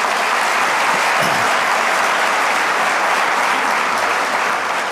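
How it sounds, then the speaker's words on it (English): Loud sustained applause from a convention audience at a bowling congress annual meeting, cheering award winners, a thick continuous wash of many hands clapping throughout. "Let's give them another round of applause."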